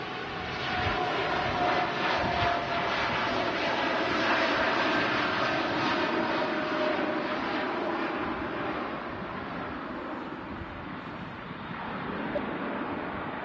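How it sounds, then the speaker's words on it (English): A TUI Boeing 787 Dreamliner rolls down the runway at Manchester Airport, its engines giving a broad, steady roar heard from a distance that swells slightly and then eases, with no voices over it. "TUI Dreamliner now rolling"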